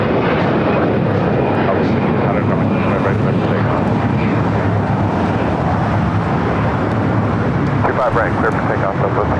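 A jet airliner rolls for takeoff on runway 25 right at LAX, a loud continuous engine roar close by with radio chatter and voices talking over it throughout.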